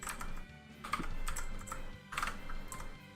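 Computer keyboard clacking during a PC game session, a steady run of close, crisp key clicks with a few louder bursts and no talking.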